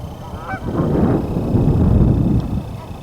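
A large flock of geese honks continuously during a winter bird count near Lethbridge, a dense, overlapping chorus of calls at close to mid range with steady wind noise underneath.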